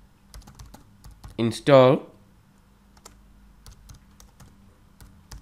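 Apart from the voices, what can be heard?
typing a command on a computer keyboard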